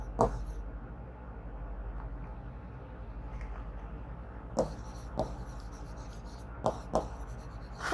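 A pen scratches across paper or a board as notes are written during a Class 12 biology lesson, with soft strokes over a low hum and a few sharper taps toward the end.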